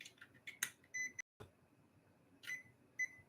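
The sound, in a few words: timer beeping as it is set to 30 minutes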